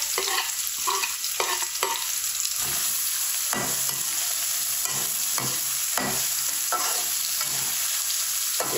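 Finely chopped small onions fry in oil in a pan, a continuous sizzle with rhythmic scraping strokes of a spoon stirring them, close and without talk.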